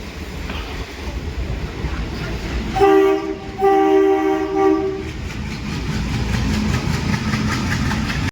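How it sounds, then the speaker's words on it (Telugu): A train rumbles steadily past up close, its horn sounding in two long blasts over the continuous roar of the engine and wheels. "ఇంజిన్ చూడండి సయ్యని వెళ్తుంది"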